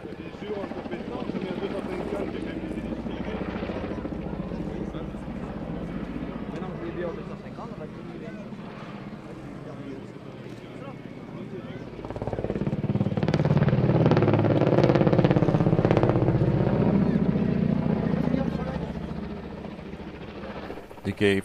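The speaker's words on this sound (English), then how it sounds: "This is the Gromov KA-52 Alligator, a two-seat version of the KA-50 Black Shark." Kamov Ka-52 Alligator two-seat coaxial-rotor attack helicopter flying at an air show at Zhukovsky, a distant rotor rumble that swells louder midway as it passes, with a voice talking over it throughout.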